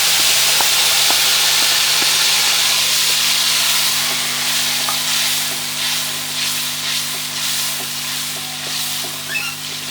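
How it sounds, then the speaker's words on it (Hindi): Tomato paste sizzles loudly over medium heat in a pan with golden-brown fried ginger for Kashmiri dum aloo, a dense continuous frying hiss close by, with faint scraping stirs. "अब हम इसमें टमाटर का पेस्ट डालेंगे।"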